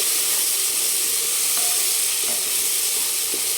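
Onions sautéing in a pan as the raw edge cooks off, a loud continuous sizzle and hiss close up, with a few scraping stir clicks and no speech.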